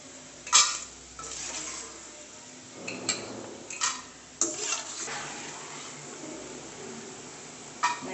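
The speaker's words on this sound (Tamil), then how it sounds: "ஃப்ரை நல்லா நல்லா மேக்ஸிமம் ஹீட்டில் வைக்கணும், வச்சு அப்படியே கிண்டிகிட்டே இருங்க" Jackfruit pieces fry on high heat in a pan while a spoon stirs them, giving a steady low sizzle broken by scattered scrapes and clinks of metal against the pan.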